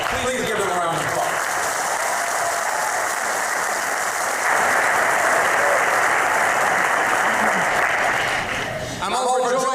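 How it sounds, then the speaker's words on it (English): An audience at a mayoral inauguration breaks into loud, sustained applause, dense clapping holding steady for nearly ten seconds before a voice cuts in at the end. "Please give them a round of applause."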